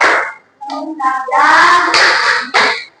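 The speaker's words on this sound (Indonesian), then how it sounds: "mari kita tepuk semangat" Children in an Indonesian classroom perform a rhythmic spirit clap led by their teacher, with bursts of hand claps mixed with chanted young voices in quick patterned phrases, loud and close.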